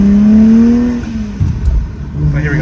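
A BMW N54 engine with a straight-piped, catless exhaust revs loudly and close, its tone climbing before dropping off, then a rougher lower burble follows with another brief rise at the end.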